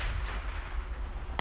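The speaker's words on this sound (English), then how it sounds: "Yeah, mortars are incoming." Incoming mortar fire in the video game Squad, heard as a continuous low rumbling barrage with a sharp impact right at the end.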